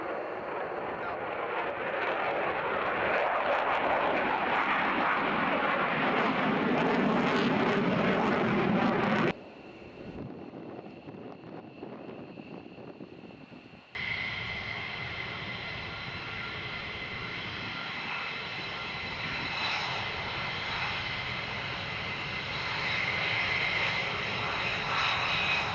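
F-22 Raptor jets taxiing at RAF Lakenheath, a loud continuous engine roar that cuts to a quieter whine and then returns as a steady high-pitched turbine drone.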